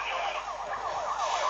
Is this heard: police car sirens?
yes